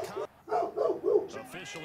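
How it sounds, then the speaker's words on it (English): The dog next door barks in short repeated bursts, three or four yaps in a row, fairly faint and distant, with some voice mixed in. "Now the dog next door barking because he's shooting outside."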